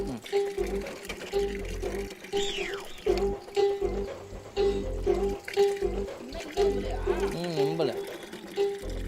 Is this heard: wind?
no